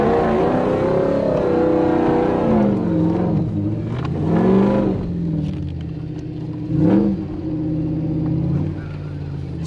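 A Toyota Surf / 4Runner with a 1UZ V8 swap labours on a slippery off-road track, its engine droning and revving in repeated surges and dips, close and loud, with voices talking over it.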